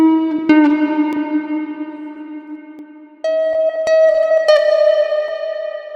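A recorded sample pitched up and run through reverb in Ableton: sustained, bright harmonic tones that ring on with echoing tails, shifting to a higher note partway through.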